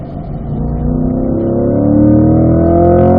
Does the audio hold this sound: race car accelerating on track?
yes